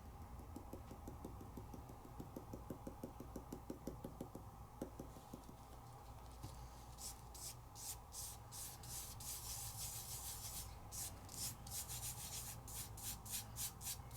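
Fingertip rubbing an adhesive rub-on with blue glitter onto craft card, quiet close scratchy strokes, a fast rhythmic burst early on, then brighter, harsher rasps later, no voices.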